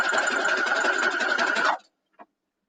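A sewing machine stitching quilt pieces runs in a fast, even, loud whir for under two seconds, then stops abruptly, followed by one small click.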